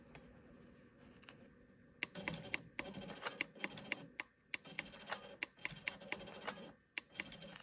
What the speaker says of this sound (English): I'm going to be stitching in the ditch on the sashing